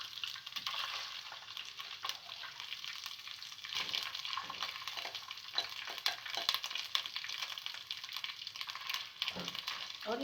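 Marinated chicken sizzles steadily in a pan for chicken Manchurian while being stirred with a spoon, a soft continuous frying hiss broken by light scraping strokes.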